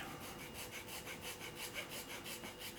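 A burr is filed off the tip of a cheap ruling pen, giving quiet, rapid back-and-forth rasping strokes in an even rhythm, close and soft with no talking.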